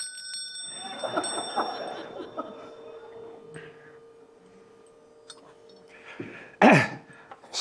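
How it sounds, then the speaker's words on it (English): A small hand bell from a convent of the Sisters of Mercy rings with bright, lingering tones at the start, then gives a sharper, louder shake near the end, with quiet voices and room sounds in between. "This is Sister Huberta's bell."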